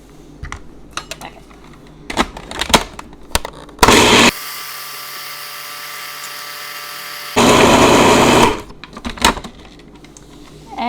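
Nuts ground small for a chocolate tartlet crust in an electric grinder: two loud, harsh bursts of whirring with a steadier mechanical hum between them, framed by light clattering and tapping.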